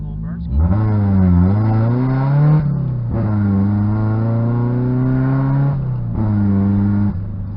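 A Toyota 86 engine revs hard in fourth gear while driving, loud and close, with rising and falling rev sweeps broken by brief dips at gear or throttle changes; a voice talks at times over the engine.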